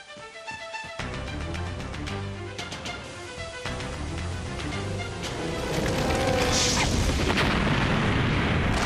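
A deep, rumbling explosion resounds above a cave, building into a sustained roar of boom and crashing debris within a dramatic scene underscored by music.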